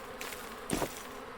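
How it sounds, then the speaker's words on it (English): A brief bee buzz sounds in a medieval survival video game, a short close drone that swells for a moment before fading back into the background. "It'll lead to more bees, which I will grab."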